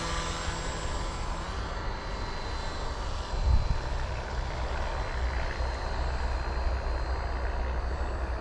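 A Hobbyking Paramotor V2 engine runs under throttle, giving a loud, steady droning roar that holds throughout with a slight swell partway through and no voices.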